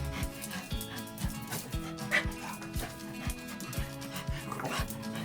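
Corgi dogs bark in a rapid, regular series of sharp yips with whimpering mixed in, close and fairly loud over faint background talk.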